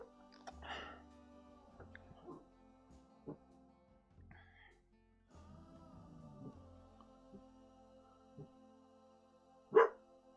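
Dogs barking indoors, a few scattered yips and barks at a distance, then one sharp, louder bark near the end, with faint talk and a quiet hum between.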